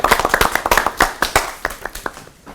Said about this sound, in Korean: 박수로 설교 청해 듣죠.